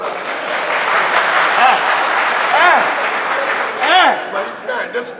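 An audience at a live stage drama applauds steadily, a dense wash of clapping that runs throughout, with brief shouts and voices cutting through.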